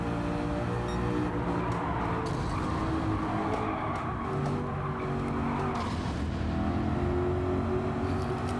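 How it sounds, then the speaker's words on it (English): A Lexus RC F with a front-mounted V8 and rear-wheel drive accelerates hard in Gran Turismo 7, its engine note droning loud and sustained with rising harmonic tones and some tire noise, no voices. "once you put your foot down, the vehicle moves"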